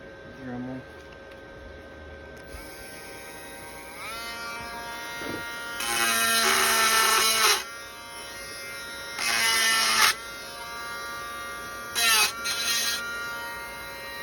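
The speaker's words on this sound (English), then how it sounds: "Dremel." Dremel rotary tool grinding on the frame of a 1998 Kawasaki KX250 motorcycle, a high-pitched whine rising in three loud bursts over a steady background buzz.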